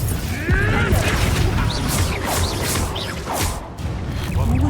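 Blasting spell cast in the video game Hogwarts Legacy, a sharp whooshing burst and crash that stands out over dense battle noise and game music, with voices calling out nearby.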